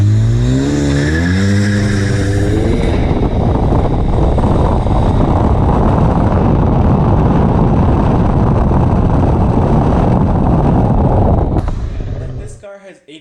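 A loud hot hatch engine, from a Focus ST or VW GTI drag race, revs hard then roars and rushes with heavy wind and road noise before abruptly cutting out.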